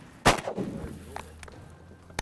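A single shotgun blast rings out while hunting wigeon ducks in a wheat field, sharp and loud and then fading quickly into quiet outdoor ambience.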